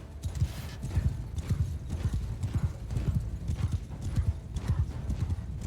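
Horses gallop in the Mount and Blade 2 battle game, with dense rhythmic hoofbeats pounding continuously at close range under faint crowd and battle noise.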